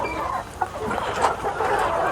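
Native country chickens cluck on a poultry farm, several birds overlapping in a busy, moderately loud chorus of short clucks and calls close by.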